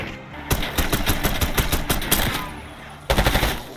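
Rapid automatic gunfire in Call of Duty Black Ops 6, two loud close bursts of quick rattling shots separated by a brief lull, with a voice talking faintly underneath.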